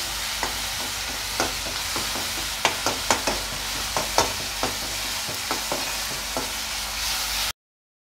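Ground green chili paste fries in a pan for a samosa filling, giving a continuous close sizzle broken by scattered clicks and scrapes of stirring before it cuts off abruptly.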